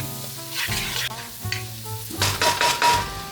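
Garlic, onion, butter, olive oil and seasonings sizzle and fry in a pan as they are stirred for chicken and dumplings, with steady frying crackle and a few louder stirring bursts over soft background music.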